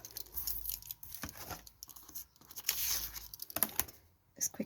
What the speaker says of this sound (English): let me just trim these edges off